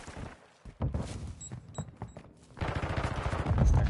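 Gunfire in Call of Duty Modern Warfare 2 ranked play: rapid bursts of shots, close and loud, with a short lull before a heavier sustained volley.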